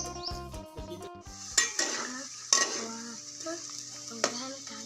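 Mushrooms dry-roasting in a pan, with a soft sizzle under clattering metal utensil scrapes and clinks against the pan, close by, joined by a brief musical tone at the start.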